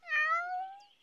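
A cat lets out one clear, close meow that slides slightly downward and fades after about a second.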